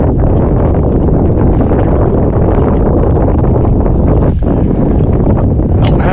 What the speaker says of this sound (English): It's a windy day, ought to be perfect for perch fishing.